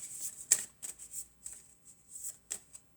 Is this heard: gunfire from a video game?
no